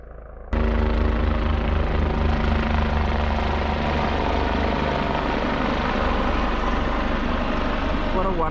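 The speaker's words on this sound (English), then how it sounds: "the lady that's being taken off in this helicopter" Westpac rescue helicopter arriving over a mountain hiking area near Mt Field West, its rotor and engine roar loud and close, steady and continuous after a sudden onset, with a dense rhythmic blade thump throughout.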